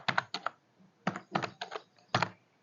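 Code is typed on a computer keyboard in a few short clusters of soft, close key clicks with gaps between them, and nobody talks.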